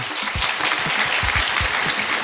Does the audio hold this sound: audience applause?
yes